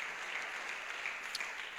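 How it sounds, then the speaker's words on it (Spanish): Applause from a church congregation during a worship service, a steady wash of many hands clapping at moderate distance for the whole stretch, with no speech over it. "Fuerte el aplauso al Señor."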